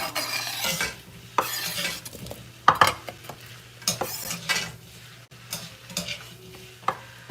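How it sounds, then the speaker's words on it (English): Vegetables sautéing in a pan for a crispy fried chicken cook, a soft steady sizzle broken by repeated sharp scrapes and clinks of a utensil stirring against the pan, close and with no voices. "All right, the veggies are sauteing now."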